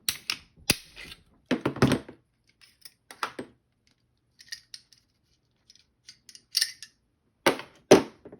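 Someone field strips a Beretta M92 pistol, making sharp metallic clicks, snaps and sliding rattles in short bursts separated by quiet gaps, close and crisp.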